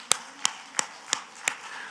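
A church congregation clapping in time, five sharp, evenly spaced claps in quick rhythm, fairly close and distinct over a quiet background.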